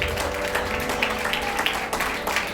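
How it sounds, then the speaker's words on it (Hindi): Church congregation clapping to welcome a pastor, a close, brisk patter of many hands with sharp individual claps popping out over a steady wash. "आइए ताली के साथ स्वागत करें पास्टर जोशुआ साइमन"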